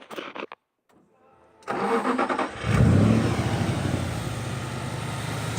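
A Nissan Skyline R32 tarmac rally car fitted with a VH41DE V8 cranks briefly, catches and starts. It then settles into a loud, close, lumpy rumble with a rising rev, heard alone without talk.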